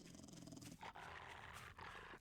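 Dogs growl and snarl aggressively in the survival video game 7 Days to Die, a dense, roaring attack in rough overlapping bursts that is loud in the mix and runs with no talk.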